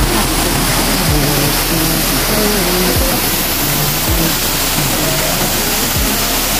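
Jhor waterfall, a loud, unbroken rush of falling water masking nearly everything, with a few low engine-like sweeps passing through.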